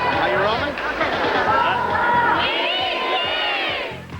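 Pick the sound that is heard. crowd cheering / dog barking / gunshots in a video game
crowd cheering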